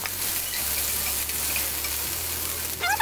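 Onion fries in hot oil for a potato kurma, giving a steady, dense sizzle that stays close and continuous throughout, with a brief clatter of stirring near the end.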